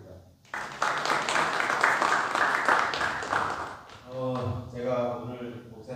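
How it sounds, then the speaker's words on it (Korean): Audience applause following a pastor's lecture, a broad wash of clapping that rises after a brief pause and fills most of the stretch, then fades as a voice begins speaking near the end. "우리 목사님께 박수 부탁드립니다."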